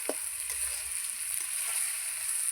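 Chicken pieces, including leg pieces, sizzle and fry in a pan with a steady hiss, joined by a few soft stirring scrapes and clinks, with no talk.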